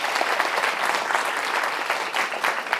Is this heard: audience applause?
yes